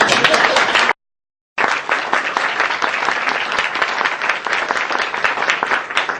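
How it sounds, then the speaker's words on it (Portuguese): Dense, loud audience applause at a round-table gathering on tarot and ethics, clapping steadily, breaking off into a short silence after the first second, then resuming just as full and sustained to the end. "Ok, palmas para ele"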